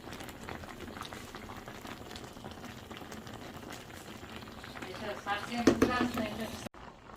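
Plums cooking down into soup in a pot, a steady close bubbling and simmer that grows livelier toward the end, with a voice speaking over it.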